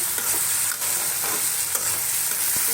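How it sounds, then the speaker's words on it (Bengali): Okra frying in a pan is stirred, giving a steady, close sizzle with soft scraping strokes running through it. "ঢেঁড়স ভাজিটা আমি তো নাড়া দিয়ে দিই"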